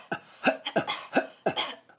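A singer coughs sharply four or five times during a breath-pressure vocal exercise. Each cough is a close, loud, separate burst, and the bursts come in a quick, uneven rhythm with no talk.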